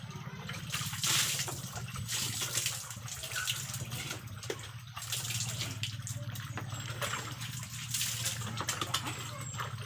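Running water pours steadily during a child's bath, a continuous splashing stream like a tap filling a basin, close and fairly loud throughout, with faint voices in the background.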